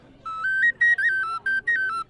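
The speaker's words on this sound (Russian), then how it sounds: "Вот самая простая птичка-свистулька с 2 игровыми отверстиями." A simple ceramic bird-shaped ocarina whistle with two finger holes plays a short, bright tune of about five sustained piping notes with brief gaps, clear and close, no voices.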